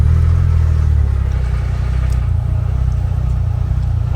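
A Polaris UTV, either a 2024 Xpedition or a Ranger 1500, idles with a loud, steady low engine rumble that holds even throughout, close to the listener.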